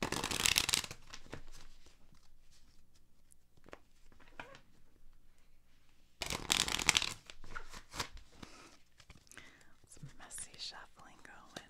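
Playing cards being shuffled for a hand of solitaire, two loud riffling bursts near the mic, with soft whispering and small card handling sounds between them.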